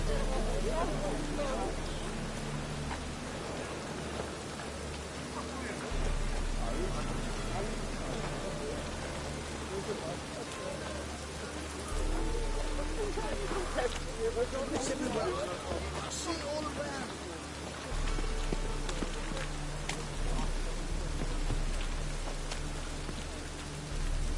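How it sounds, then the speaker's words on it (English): Steady rain pours down in The Witcher 3, a dense hiss of drops on surfaces with a faint murmur of voices in the background. "It's raining again."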